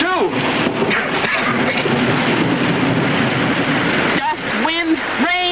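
Wind and heavy rain from a storm in a 1930s film, a steady dense roar filling the whole stretch, with people talking over it in the later part.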